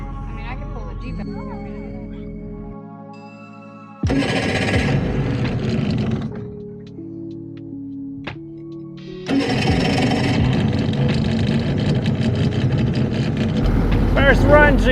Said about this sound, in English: Engine's sputtering a little bit, but it seems to smooth out once I get up and going.